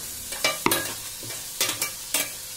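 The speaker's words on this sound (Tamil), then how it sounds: "இதை நீங்கள் வதக்கி இப்படி லேசாக நல்லா மிக்ஸ் பண்ணி" Onions being sautéed and stirred in a pressure cooker, several distinct scraping strokes of a spoon against the pot over a soft frying sizzle, close up with no talking.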